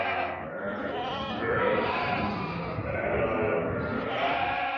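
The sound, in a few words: rams and goats bleating while walking in a line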